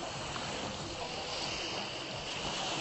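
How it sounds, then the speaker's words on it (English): Ocean surf washing steadily onto a sheltered beach at Isla Mujeres, a continuous broadband wash with some wind noise on the microphone, no talking. "Beautiful protected surf."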